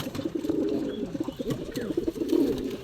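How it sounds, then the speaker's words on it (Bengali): Pigeons, mostly this year's young birds with a few older breeders, coo steadily at close range, a low, rolling, continuous murmur of overlapping calls. "আমার নতুন কবুতর এগুলো।"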